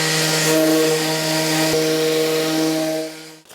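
A power sander runs steadily on a wooden hall table drawer, giving a loud, continuous tonal whine and buzz that holds for about three seconds before abruptly cutting off.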